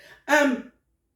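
A single short, rough cough or throat-clear, close and fairly loud, with no talking around it.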